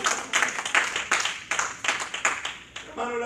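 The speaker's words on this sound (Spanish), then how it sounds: "Oh, cuánto dar ese aplauso al Señor" A church congregation claps along in steady rhythmic bursts, a fairly close, continuous wash of applause that briefly thins near the end as a voice begins to sing.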